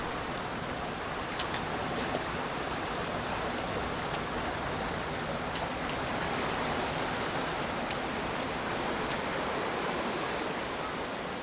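A mountain torrent in the Pyrenees cutting across a rock band, a dense, steady roar of rushing water filling the scene without break, loud and close.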